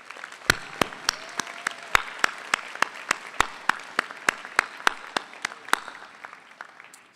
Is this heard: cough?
no